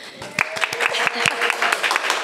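A burst of clapping from a small group, uneven and fairly close, with voices and cheers mixed in.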